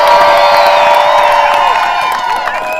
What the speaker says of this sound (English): Can we give Vickie a round of applause?